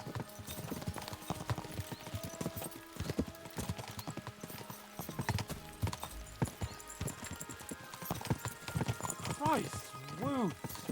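Horses' hooves clip-clop steadily in Kingdom Come Deliverance 2 amid a busy game soundscape, with game characters talking over the hoofbeats and a brief whinny near the end.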